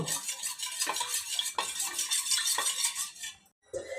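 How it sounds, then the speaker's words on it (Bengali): A spoon stirs a cornflour mixture for homemade tomato sauce, giving close, continuous scraping with repeated light clinks against the container and a brief pause near the end. No one speaks. "আমরা গুলিয়ে নেব"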